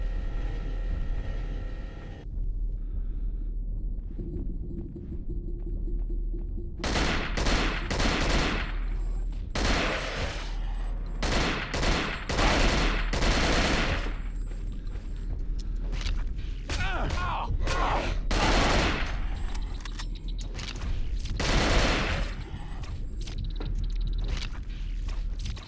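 Rapid bursts of automatic turret gunfire in the Cold Fear video game, loud and repeated through most of the stretch, with a voice speaking over the shots.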